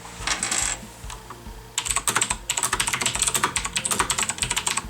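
Logitech G710 mechanical keyboard being typed on up close: a short burst of keystrokes, a brief pause, then a fast, steady run of sharp clacking clicks.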